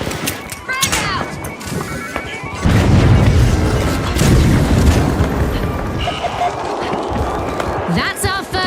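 Frag grenade in the shooter game The Finals going off with heavy booming blasts and crashing debris, mixed with gunfire and action effects under an excited voice talking throughout.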